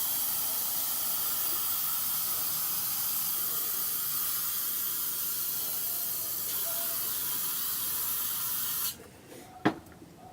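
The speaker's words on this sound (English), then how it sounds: "And then just spray black around it." A spray paint can sprays black paint onto stencil art in one long, steady hiss lasting about nine seconds. It then cuts off, followed by a faint click and near silence.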